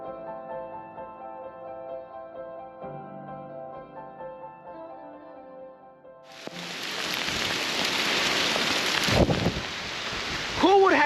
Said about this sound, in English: Who would have thought that I would be getting pummeled with hail here on the Oregon coast?